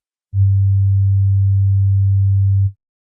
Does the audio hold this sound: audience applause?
no